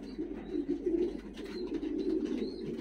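Pigeons coo softly and continuously in a breeding-pigeon aviary, a low rolling murmur with faint chirps above it.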